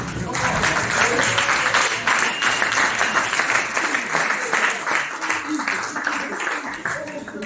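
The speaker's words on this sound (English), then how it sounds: "Please stand up and clap hands." A standing audience at a motivational talk claps hands, dense crowd applause sustained and fairly loud throughout, with faint voices mixed into the clapping.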